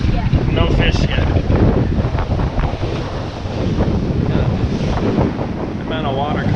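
Heavy sea water sloshes across the deck of a sailboat running with one reef and a partly furled headsail on an ocean passage from Mexico to Hawaii, loud and continuous under strong wind buffeting the microphone.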